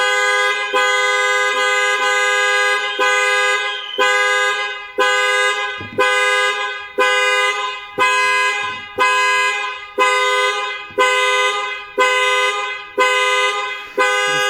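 A Lexus NX car alarm, set off by a theft attempt and tied to a CANLOCK PRO security system, sounds loud, rhythmic horn blasts about once per second, repeated steadily throughout with no talking.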